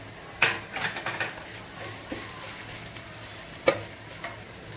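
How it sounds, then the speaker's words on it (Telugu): Fenugreek seeds stirred in sizzling hot oil in a pan while tempering for gongura pulihora, with a soft steady sizzle under scraping spoon and pan clinks and an occasional sharper knock. "మెంతులు 3 స్పూన్లు మెంతులు వేస్తున్నాను చూడండి అమ్మా"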